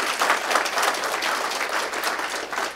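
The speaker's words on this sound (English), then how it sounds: "round of applause" Audience applause at a Michigan LEAN Consortium gathering, a short, steady wash of many hands clapping at even loudness throughout, with no talk over it.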